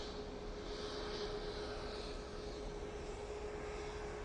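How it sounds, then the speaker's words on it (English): An Ethiopian Airlines Airbus A350 comes in to land at Manchester Airport, a faint, steady engine drone with a thin high whine running through it, heard from afar without voices. "that'd be the Ethiopian A350 coming in"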